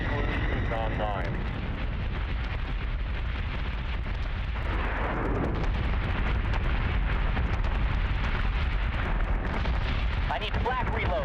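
A warship in Battlestar Galactica Deadlock throws up flak in a dense, continuous roar of rapid gun bursts and rumbling detonations, with a voice talking over the barrage.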